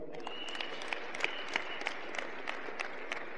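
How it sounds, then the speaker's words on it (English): A church congregation at a thanksgiving service gives steady applause for an elderly man, with crisp, evenly timed claps standing out above the wider clapping of the crowd. "Clap for him."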